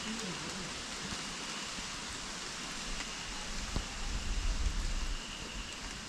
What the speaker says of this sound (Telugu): ఇప్పుడే వర్షం స్టార్ట్ అయింది.